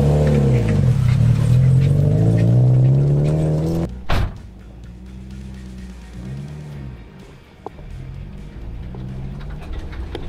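A Subaru rally car engine revs hard and climbs in pitch for several seconds, then a sharp clunk cuts in and the engine drops to a lower, uneven idle.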